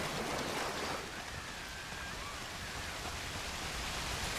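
A waterfall in Red Dead Redemption 2 roars as a steady, broad rushing wash of falling water, constant and fairly faint throughout with no other sounds.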